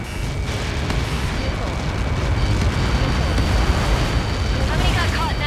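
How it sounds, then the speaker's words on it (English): A Helios missile impact explodes in the aerial combat game Ace Combat 7, giving a sustained, rumbling, roaring blast that stays loud for several seconds. "How many got caught in that explosion?"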